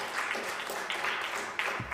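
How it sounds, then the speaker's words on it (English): An audience gives a round of applause for the team at the Bank of Namibia 2020 annual report launch, a dense, even patter of clapping sustained for the whole short stretch. "So another round of applause to the team for complying with that obligation."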